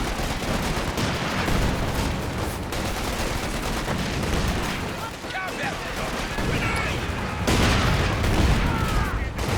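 Grenades burst amid steady small-arms and machine-gun fire in a Company of Heroes 2 battle, dense continuous crackling gunfire with heavier booms rising toward the end, a commentator talking throughout.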